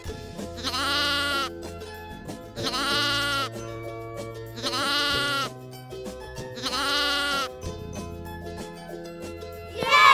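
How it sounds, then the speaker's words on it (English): A lamb bleats four times in long, wavering cries separated by short pauses, close and clear over quiet background music. "Lamb."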